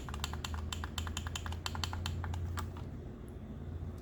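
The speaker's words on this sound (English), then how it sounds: "The Doyoki Joycons also have clicky back buttons." Clicky back buttons on a Doyoki GameCube-style controller are pressed in quick repeated succession, a close series of sharp, light plastic clicks for about three seconds before falling quiet.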